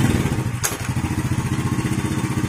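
A motorcycle engine with a carburettor idles close by in a steady, fast pulsing rhythm, loud and alone, with one sharp click early on.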